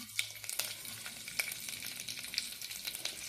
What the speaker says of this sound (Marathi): त्याच्यामध्ये जिरे मोहरी घालून घेऊ तसंच लसूण कढीपत्ता देखील घालून घेऊ